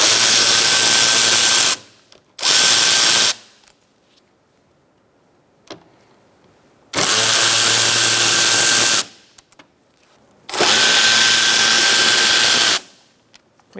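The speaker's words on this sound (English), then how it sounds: "Using a T30, remove your Torx bit bolts." A power driver with a T30 bit whirs in three to four loud, steady bursts of a few seconds each, removing Torx bolts from a Ford Focus front bumper cover, with quiet pauses between runs.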